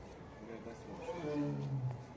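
A tiger at Tarsus zoo gives a low, rumbling roar that swells and fades over a couple of seconds, heard at a moderate distance while people talk nearby.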